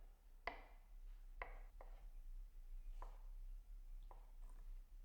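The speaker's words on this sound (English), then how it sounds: "Now moving on to the mozzarella. Same thing, slicing it up." Knife slicing mozzarella on a cutting board while preparing chicken pizzaiola, several quiet, separate cuts with short pauses between them and a low steady hum behind.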